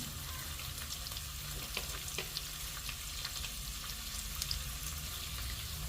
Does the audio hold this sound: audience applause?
no